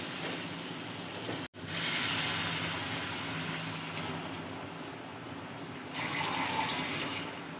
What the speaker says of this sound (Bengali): এখন আমরা এটার মধ্যে জল দিয়ে দিব।